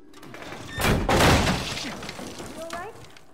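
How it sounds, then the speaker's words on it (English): A ceiling collapses in The Last of Us, a sudden crashing burst of breaking debris and shattering that swells then trails off into scattered rattles, with a voice speaking near the end. "Ceiling's falling apart."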